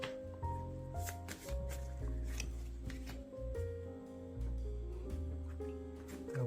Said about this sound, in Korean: 카드를 뽑아볼게요